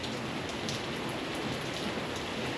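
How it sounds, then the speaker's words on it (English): Steady rain falls outside a shop, a dense continuous hiss of drops on surfaces, fairly loud and unbroken, with no voices. "I'm gonna have to go out in the rain"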